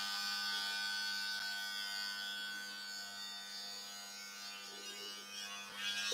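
The FRED electric head shaver hums steadily and quietly after being switched on, running alone at low level with no voices.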